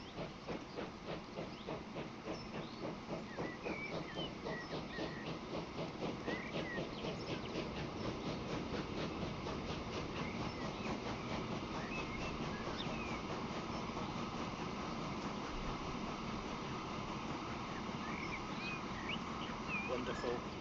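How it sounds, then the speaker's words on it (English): A fully loaded steam-era train pulls away in the railway simulation game Transport Fever 2, a steady clickety-clack rhythm over a faint hiss running continuously throughout. "Fully loaded train, off it goes."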